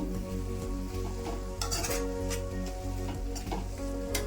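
Ginger and spices being stirred in a frying pan over low flame, a steady close sizzle with repeated scraping strokes of a spoon against the pan, no talking.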